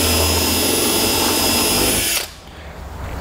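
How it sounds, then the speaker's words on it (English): A loud power drill whirs steadily for about two seconds drilling a pilot hole for a fifth wheel hitch installation on a 2007 Toyota Tundra, then cuts off abruptly, leaving a low room hum. "we'll drill out our pilot hole."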